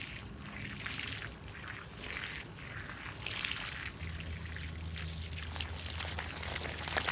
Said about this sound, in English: I'm just going to go through and just water each trench individually